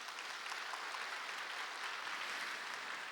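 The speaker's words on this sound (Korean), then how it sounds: "우리 동산에 가족된 귀한 성도님들을 큰 박수로 환영하도록 하겠습니다" A church congregation gives a steady, even round of applause to welcome new members during a Sunday morning service. Many hands clap together at a moderate distance, with no speech over it.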